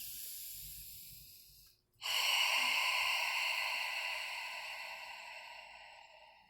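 Pilates breathing produces a soft, sea-like hiss: a quiet inhale fades out, a brief pause follows, then a long, steady exhale rushes out close to the microphone and slowly tapers off.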